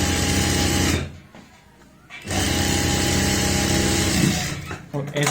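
A sewing machine stitches kurti fabric in loud whirring bursts. It pauses for about a second, then runs steadily again and stops near the end.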